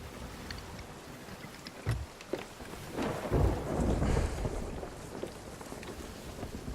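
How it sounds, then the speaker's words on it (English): Thunder rolls through a stormy sea in the pirate game Sea of Thieves, with a sharp crack followed by a long, loud rumble that swells and slowly fades over steady rain-like noise. "I can hear thunder."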